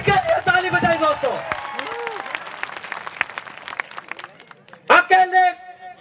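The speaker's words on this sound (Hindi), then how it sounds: "उनके लिए ताली बजाइए दोस्तों" A crowd at a speech in a sports complex claps and cheers, with scattered hand claps mixed with shouting and whooping voices that swell loudly again near the end.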